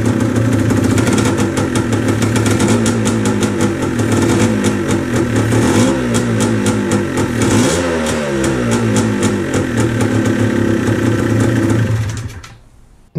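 Motorcycle engine fitted with a PWK carburettor, kick-started and then running steadily at a loud, close idle with a regular rapid firing pulse and slight revving, cutting off abruptly near the end.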